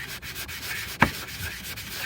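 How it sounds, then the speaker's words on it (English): Steady, gritty rubbing of 320-grit sandpaper on a repaired rust hole in a car door, up close and continuous, with one brief sharper scrape partway through. "Right now we're gonna sand it out"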